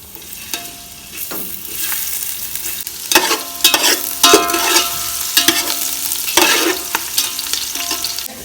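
Ginger, garlic and slit chillies hit hot oil for a street-food chicken fried rice, giving a bright close sizzle that keeps swelling in bursts as the pan is stirred and tossed, with scraping and clanks between.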